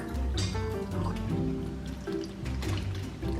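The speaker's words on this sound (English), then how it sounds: "let me pour the milk" Milk pours into a pot of rosé tteokbokki, a steady liquid trickle and splash running continuously at moderate volume with no voices.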